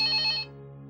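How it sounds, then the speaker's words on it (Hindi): A telephone rings with a bright electronic trill that cuts off after about half a second, leaving a soft lingering tone in an indoor setting. "मेरा ख्याल हलीम का टेलीफोन है।"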